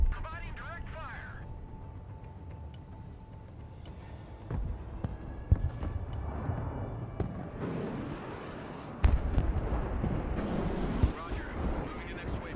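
Mobile artillery firing in the war game Broken Arrow, heard as a few sharp booming blasts and crackling impacts spread through the clip, mixed with rumbling battlefield noise and game voice lines.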